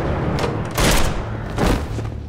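Two heavy, booming gunshot-like blasts ring out loud and close, each a broad burst with a rumbling tail, with no voices over them.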